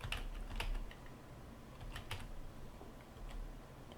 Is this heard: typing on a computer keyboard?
yes